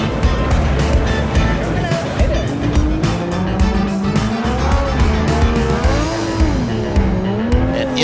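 A drift car doing a burnout in a burnout box at a Formula Drift event at Irwindale, with a loud continuous engine roar and sustained tire squeal rising and falling in pitch, while an announcer talks over it.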